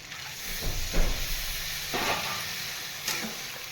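Water left from grinding lentil paste hits a hot pan of oil and ground chilli, cumin and coriander, throwing out loud hissing bursts of steam and sizzle in several pours that settle into a steady bubbling hiss.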